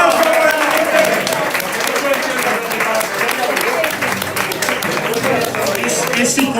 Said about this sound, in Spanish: ¡Un aplauso para Enrique!